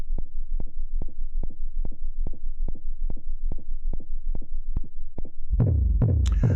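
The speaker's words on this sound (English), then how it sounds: "using the sine wave, that's a really good start with the kick" An Elektron Syntakt plays a synthesized sine-wave kick drum, a deep, round thump repeating in a steady four-on-the-floor pulse about twice per second, before a brighter, noisier synth sweep comes in at the end.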